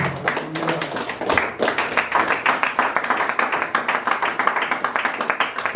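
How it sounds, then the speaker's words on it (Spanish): A church congregation claps in a steady, rhythmic beat, many hands striking together close and loud, continuing without pause. "Dale un aplauso al Señor"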